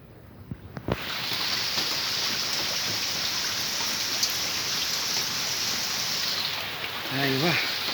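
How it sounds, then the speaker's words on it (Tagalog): Rain falling outside, a steady hiss of drops on surfaces that starts after a few soft knocks and carries on evenly, with a brief voice near the end. "Umuulan pa rin dito."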